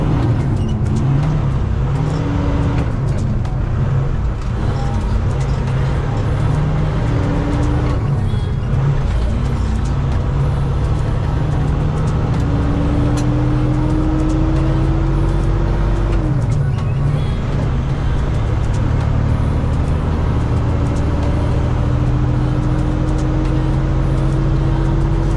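A loaded concrete truck pulls away in second gear, its diesel engine droning loud and close with rising and falling whines as it labours through the gear, no talk over it.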